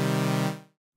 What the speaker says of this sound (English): So we've got a saw wave here,